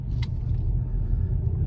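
Low, steady road rumble and engine drone from inside a lowered VW Passat on a test drive, continuous and fairly loud with a brief faint rattle near the start, no talking.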